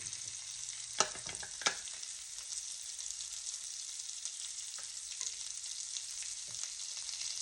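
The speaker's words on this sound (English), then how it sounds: "now we are going to add our sausage in the same bacon fat. And we're also going to add to that our onions" Sausage and onions frying in bacon fat, a soft, steady sizzle with a couple of sharp utensil knocks early on and faint scraping later.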